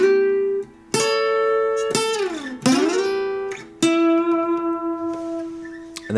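Electric guitar playing part of a song: separate plucked notes and chords with slides and bends, each left to ring and fade, close and fairly clean.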